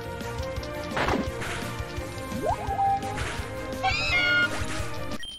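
Meowth, the cat-like Pokémon, cries in a video game with a few bright, wavering meow-like calls over a busy backdrop of game music and effects.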